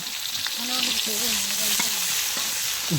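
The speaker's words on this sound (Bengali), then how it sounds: "তেলটা গরম হচ্ছে আবার দিতে, এই যে ফেনা উঠতেছে" Food fries in hot, foaming oil, giving a close, steady sizzle through the whole clip, with a few brief clinks of a utensil.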